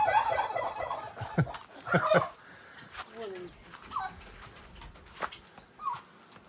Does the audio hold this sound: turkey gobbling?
yes